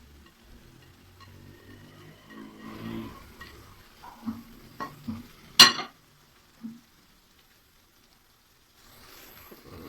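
Fried onions being stirred into a keema mixture for stuffed karela, with a run of scraping, clanking spoon strokes against the pan, one sharp metallic knock, then near silence.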